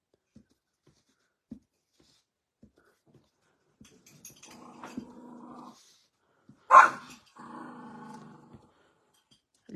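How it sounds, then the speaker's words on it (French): Dogs barking and growling nearby, a new dog and an older one at odds indoors, with a sustained growl followed by a sharp loud bark and another growling stretch, after quiet moments. "Les chiens."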